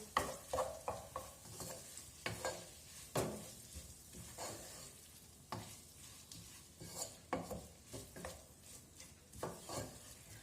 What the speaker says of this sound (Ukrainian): добавлю томатної пасти і то все разом перемішаю